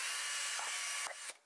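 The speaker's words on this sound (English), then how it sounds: "I'm going to take my drill, and I'm simply going to very casually drill a hole" A power drill bores a hole through the center of a plastic container top, giving a loud, steady whirring grind that holds for about a second before the motor cuts off in two short stops.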